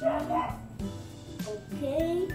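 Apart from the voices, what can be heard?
dog barking in background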